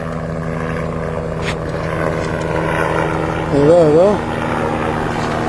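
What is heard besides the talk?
helicopter flying overhead toward a fishing boat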